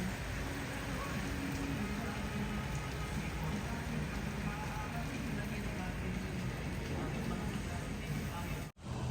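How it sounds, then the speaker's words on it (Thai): Light rain falls steadily in the hills near a waterfall campsite, a dense continuous patter on surfaces close by that holds an even level throughout and breaks off only briefly near the end. "ตอนนี้คือฝนก็เบาแล้ว แต่ว่ายังตกอยู่นะทุกคน"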